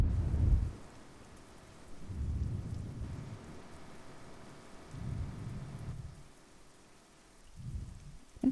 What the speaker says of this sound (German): Gerade haben wir wieder einen Donner gehört.